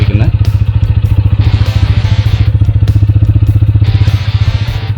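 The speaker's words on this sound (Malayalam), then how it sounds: "Without using the accelerator, the bike is moving." A TVS Apache RTR 160 4V motorcycle rolls along in gear with no throttle. Its close, steady single-cylinder thump pulses rhythmically at low revs, and a voice talks over it.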